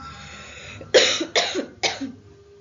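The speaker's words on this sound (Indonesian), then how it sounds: "Mohon maaf, Ibu lagi batuk." A woman coughs three times in quick succession during an anatomy lesson, each cough sharp and close, separated by short breaths.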